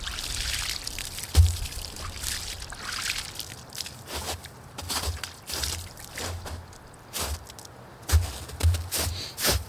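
A brush scrubs a veteran's headstone with plain water, giving soft wet swishes, trickles and splashes in uneven strokes, quiet and close, with no talking.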